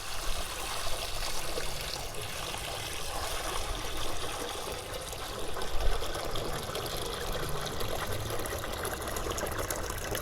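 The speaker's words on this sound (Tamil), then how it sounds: "தண்ணி வந்து மெதுவாக வந்து ஊற்றிக்கிறேன்" Water trickles slowly from a pot into an old umbrella reused as a planter, a continuous soft gurgling stream with a brief louder splash midway, no talking.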